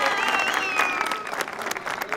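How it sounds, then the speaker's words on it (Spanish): Brief applause and chatter from an audience at a Halloween costume contest on a variety show, quick clapping mixed with lively voices and a few whoops. "Un aplausito para la señorita."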